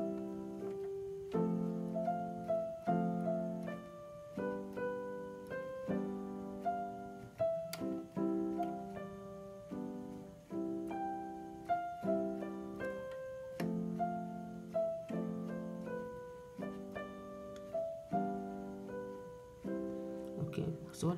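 Keyboard playing a gospel song with left-hand chord inversions, a steady flow of sustained chords and melody notes in a moderate rhythm, close and clear for about twenty seconds with no talking.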